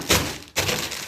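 Two sharp, dry crunches half a second apart, close and loud, like a packet of brittle noodles being crushed by hand.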